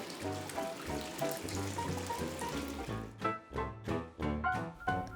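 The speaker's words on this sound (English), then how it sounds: "hot water pours out of his mouth" Hot spring water pours from a raccoon-shaped spout into a bath, a close, continuous gushing trickle that turns into rhythmic sloshing splashes toward the end.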